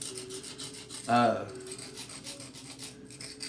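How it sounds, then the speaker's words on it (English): A rasp scraping across a knapped stone tool piece, cutting grooves into it: one short, loud rough stroke near the mic around the middle, with quiet room noise before and after. "that rasp actually puts grooves in the piece"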